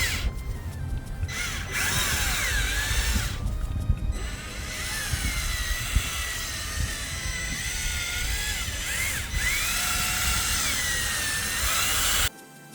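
Cordless drill spinning a polishing pad on a car, a loud steady motor whine with slight pitch wavers as pressure changes, running almost continuously with a few brief dips before cutting off at the end.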